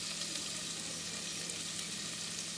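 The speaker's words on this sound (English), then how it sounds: "So I'm gonna saute this onion maybe like a 5 minutes, 5 to 6 minutes." Onion sautéing in a pan for a South Indian sambar, a steady, even sizzle and frying hiss that continues without a break, with a low hum underneath and no voices.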